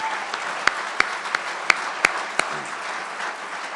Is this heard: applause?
yes